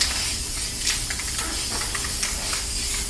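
A can of spray paint hisses in a steady, continuous blast, close and fairly loud, with slight pulsing as the nozzle is held down, used indoors in an enclosed room.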